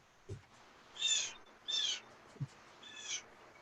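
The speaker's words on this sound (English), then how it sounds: "That bird you're hearing in the background woke me up every morning with its screeching." A bird outside in Canada gives three harsh, screeching calls, with a couple of soft knocks between them over a quiet background.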